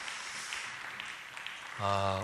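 A church congregation bursts into loud applause, a dense, steady wash of clapping that fills most of the moment before a voice cuts in near the end.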